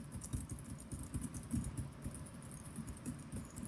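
Quiet, rapid typing on a computer keyboard, a close patter of soft key clicks in an irregular stream with no voices.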